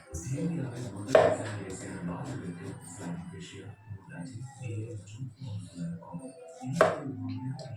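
Onion being chopped on a board, a few sharp knife strikes standing out over a steady background of kitchen noise and low voices talking.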